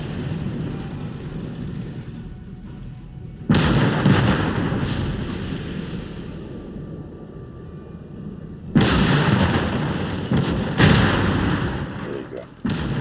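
Mortar fire in Call to Arms Gates of Hell, several heavy booming launches and blasts spread apart, each rolling off into a long rumble over continuous battlefield noise.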